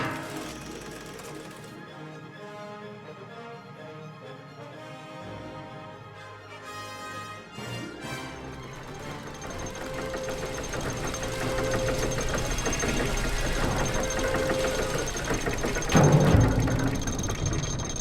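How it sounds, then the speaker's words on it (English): Machine in The Book of Unwritten Tales 2 clanking and ratcheting into motion, starting with sparse mechanical tones then building into a steady, louder whirring and rattling drive with a brief heavier burst near the end. "Better take a closer look at the engine."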